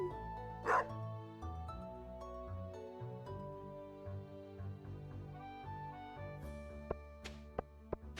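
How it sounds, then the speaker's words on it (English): An adopted dog in the Stardew Valley farming game barks once over cheerful game music, with a few later soft blips and clicks in the music. "Marnie asked me to adopt a dog."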